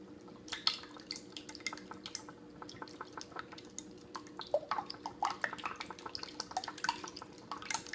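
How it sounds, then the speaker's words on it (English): English muffin batter is whisked in a bowl, a quiet, close run of quick irregular ticks and taps from the whisk against the bowl with no talking. "going to whisk it up"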